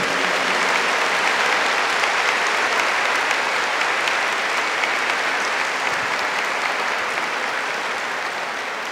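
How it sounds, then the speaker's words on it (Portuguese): An audience at a Catholic healing service led by Fr. Rufus Pereira bursts into sustained, dense applause that fills the whole stretch and tapers slightly toward the end, with no talk over it. "Give the Lord a big clap for this revelation."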